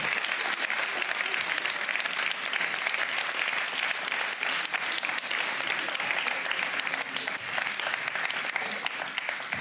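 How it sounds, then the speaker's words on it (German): A television cooking-show studio audience claps steadily for the contestants, a dense, even patter of many hands sustained throughout, moderately distant, with no clear voices over it. "nochmal einen Applaus für alle Kandidaten"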